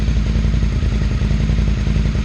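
A Ducati 800 Scrambler track bike with an air-cooled engine runs loud and close, held on light throttle with a steady, lumpy idle that pulses rhythmically throughout.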